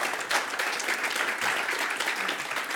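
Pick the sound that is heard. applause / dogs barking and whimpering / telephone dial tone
applause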